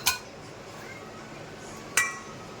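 A spoon clinks twice against a bowl while avakaya pickle ingredients with ginger paste and cumin-fenugreek powder are mixed, two sharp bright taps over a low quiet background.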